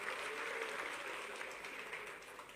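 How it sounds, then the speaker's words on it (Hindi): An audience at a government ceremony for denotified and nomadic tribes' welfare applauds the chief minister, a faint, distant, steady wash of clapping that holds evenly throughout without talk. "हमारे यशस्वी मुख्यमंत्री जी के लिए जोरदार तालियां"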